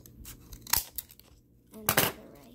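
Scissors snipping paper to make a dragon puppet, two or three quick, crisp cuts close by with short pauses between them, fairly quiet and without talking.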